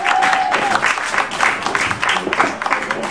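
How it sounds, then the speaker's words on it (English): Comedy-club crowd clapping for themselves during a stand-up show, a loud close burst of applause with dense overlapping claps and a few cheers, lasting a few seconds. "Give yourselves a round of applause for being here."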